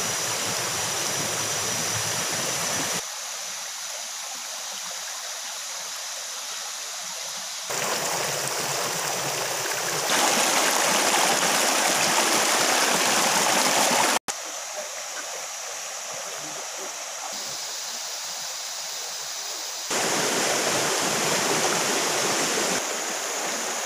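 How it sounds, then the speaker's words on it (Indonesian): An upstream river in the Mahakam headwaters runs over rocks, a steady rushing and splashing close by that swells and fades as the listening position shifts. "Kita masih di hulu sungai."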